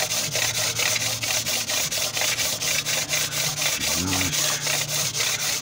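A Morris Minor engine head is rubbed by hand with 320-grit wet and dry sandpaper, a close, steady rhythm of rasping back-and-forth strokes with faint tonal noise beneath.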